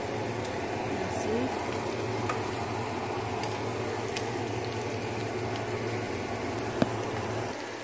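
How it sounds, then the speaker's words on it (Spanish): Chicken milanesa fries in a pan with a steady, close sizzle and faint crackles that hold evenly throughout, with no speech over it. "Aquí estamos friendo una milanesa de pollo."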